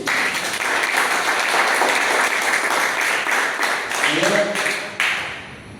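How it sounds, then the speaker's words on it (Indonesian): A church congregation at Sunday worship breaks into sustained, dense clapping that fills the room, tapering near the end as a speaker's voice rises over it. "Tepuk tangan dulu buat Tuhan."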